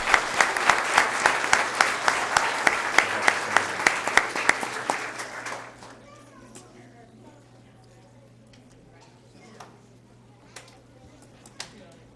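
Clapping for district science fair winners at a school board meeting, a dense burst of hands for about six seconds that fades out, leaving a quiet room with a few scattered sounds.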